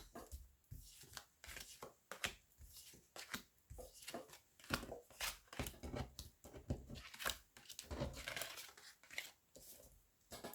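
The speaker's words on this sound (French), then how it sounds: "je vais tirer 6 cartes" Tarot cards are drawn and handled in soft, irregular bursts of shuffling, sliding and flicking, each faint rustle separated by short pauses.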